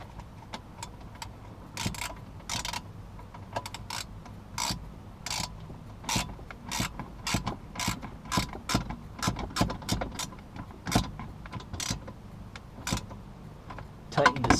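Rapid repeated clicks of a ratchet snugging a bolt while hardwiring a radar detector in a car, sharp close ticks in irregular bursts over a low background hum, no talk.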